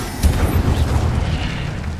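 A single Incendio fire spell in Hogwarts Legacy erupts with a short, loud low whoosh and boom, then a rumbling crackle that quickly fades.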